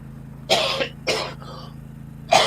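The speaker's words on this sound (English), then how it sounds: "I apologize for the coughing." Three rough coughs, the first two close together and the last after a pause, fairly near against a low steady hum.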